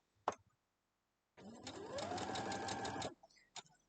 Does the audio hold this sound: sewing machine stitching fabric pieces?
yes